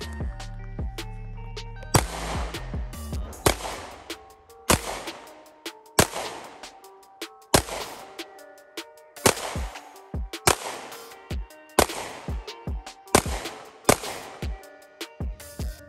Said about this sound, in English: Some range footage of me shooting the FN-509 Tactical.